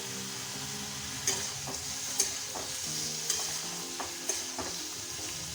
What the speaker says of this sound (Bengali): একটু ঝিঙেগুলো ভাজা ভাজা হয়ে যাবে